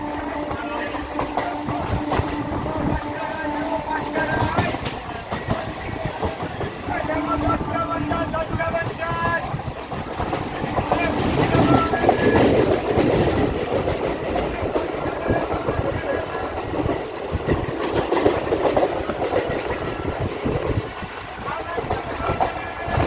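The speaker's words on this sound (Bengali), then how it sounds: "ট্রেন কিন্তু লেট করেছে, টানবে তো অবশ্যই।" Onboard a running local train from Tarakeswar to Dakshineswar, continuous rumbling and rhythmic clickety-clack of wheels on rails swells and eases, with wind buffeting the microphone through the long ride.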